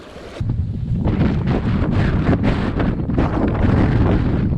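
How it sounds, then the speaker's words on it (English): Gusty wind beside a trout stream buffets the microphone in loud, continuous rushing bursts, with no voices. "I'd say it's on the windier side of calm today"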